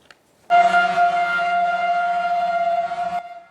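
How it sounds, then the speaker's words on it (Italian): A single long car horn blares near and loud as water tanker trucks arrive in Ravanusa, Sicily, a sustained tonal honk lasting about three seconds before cutting off. "Clacson, applausi e autobotti cariche d'acqua."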